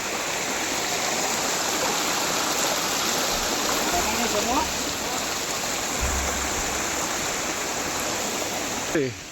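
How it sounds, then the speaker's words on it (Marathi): Water flows in a steady, unbroken rush near Lonar Lake, Maharashtra, filling the whole stretch, with a faint voice or two surfacing briefly near the end. "पाणी कंटिन्यू असतं"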